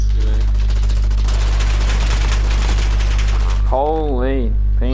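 Rapid bursts of P90 submachine gun fire in Modern Warfare, a dense crackling stream of shots that ends suddenly, followed by a voice speaking.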